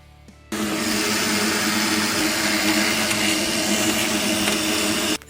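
An xTool D1 Pro 20W diode laser cutter with air assist, cutting a pair of earrings inside an enclosure: a steady, loud whir of fans and air pump starts abruptly and holds constant, with faint ticks, and no talking.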